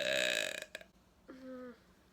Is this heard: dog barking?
no